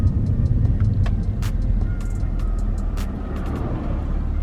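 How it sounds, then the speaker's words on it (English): Cars approaching from behind on a road, heard from inside a parked Audi S4 as a steady low rumble of passing traffic with faint brief clicks, continuous and moderately loud throughout. "I do see a car coming up, 2 cars actually"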